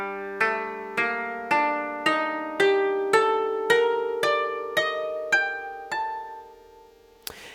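A koto tuned to traditional Japanese hirajoshi, plucked string by string in a steady descending run of about eleven ringing notes, each decaying before the next, ending with a short sharp pluck.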